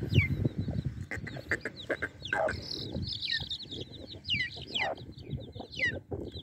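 A hen broods chicks tucked under her wings, clucking low and repeatedly nearby while the chicks' thin, high peeps chirp over her.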